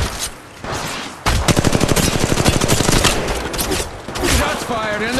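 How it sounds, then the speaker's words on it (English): Gunfire in the mobile game Apex Legends Mobile comes as rapid automatic bursts: a long rattling volley after a short pause, then further shots, loud and close. "Shots fired and they're hitting me."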